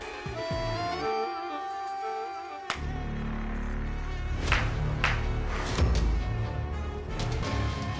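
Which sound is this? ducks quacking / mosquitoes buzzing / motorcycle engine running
mosquitoes buzzing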